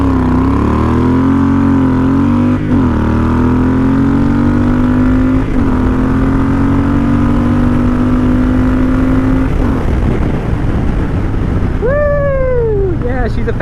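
A Triumph Thunderbird 1700 muscle motorcycle roars hard from 0 to 60, its loud engine rising steadily in pitch through gear changes, ending in a final rev climb with wind rush.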